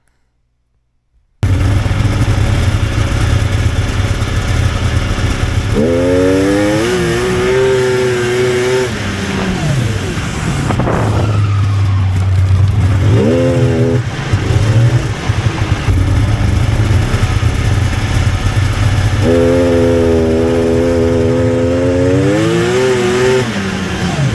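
A Polaris snowmobile engine revs hard and continuously on a test ride, the loud droning roar rising and falling through several throttle sweeps, with no talking.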